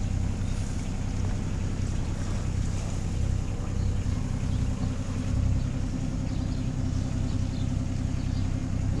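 A sailboat motoring under engine in windless calm on a Balearic crossing from Menorca to Mallorca, its steady low engine drone and hull rumble running unbroken and fairly loud throughout.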